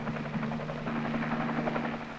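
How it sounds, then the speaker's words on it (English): A military helicopter, an ARVN aircraft in 1963 Vietnam, comes in to land with a steady droning rotor buzz and thrumming pulses, moderately loud and continuous. "Three hours later, an Arvin helicopter landed."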